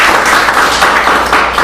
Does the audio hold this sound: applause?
yes